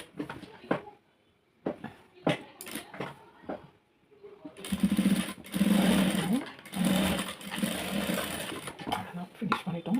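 A sewing machine stitches a sleeve in bursts: short rattling runs early on, then a longer continuous whir, then more brief runs, with a voice speaking between them.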